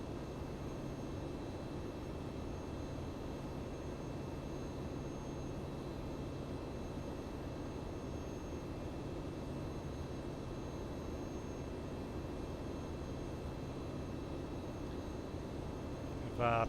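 A three-engine Falcon 50 jet in flight in the Prepar3D flight simulator gives a steady, even engine drone that holds unchanged from start to finish, with a brief louder blip at the very end.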